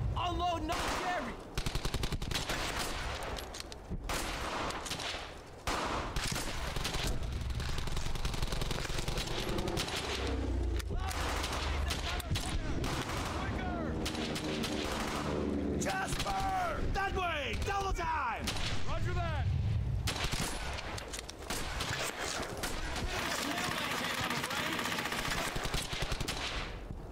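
Repeated bursts of rapid gunfire and explosions from the World War II shooter Brothers in Arms: Hell's Highway, loud and sustained, with soldiers shouting orders over the fighting.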